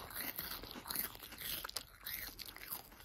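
Cauliflower crisps being eaten up close, with a series of loud, crackly crunches and chewing bites repeating irregularly throughout.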